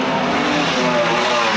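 Stock cars race around an oval track at a night gala meeting, giving a dense, continuous engine roar that stays loud and close throughout with a commentator faintly present underneath.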